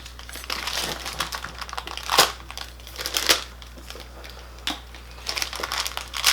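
Plastic bags crinkle and crush in bursts while tools from an iFixit repair business toolkit are unpacked, close and moderately loud, with irregular crackling swells and no talking.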